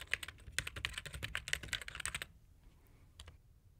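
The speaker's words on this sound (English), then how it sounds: "in the main frame, I can also type text" Rapid typing on a computer keyboard, a dense run of crisp key clicks for about two seconds, then a few scattered taps in a quiet room.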